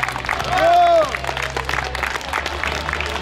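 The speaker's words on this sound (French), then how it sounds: "On n'entend rien, applaudissez-les." Crowd at an outdoor under-11 youth football tournament applauds players being introduced, a continuous wash of clapping with a short whistle-like cheer early on and voices mixed underneath.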